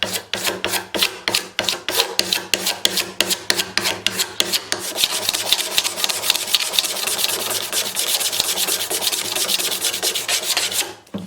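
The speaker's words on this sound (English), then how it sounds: "Now for the headstock, I scraped off some of the glue that was on here" A razor blade scraping old glue off the headstock of a 1972 Regal guitar, rapid repeated rasping strokes, close and loud, blurring into continuous scraping, no talk.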